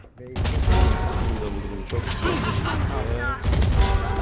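Gunfire rattles in the Valorant video game, with loud bursts of shots close up and a brief gap between volleys, over background game sounds.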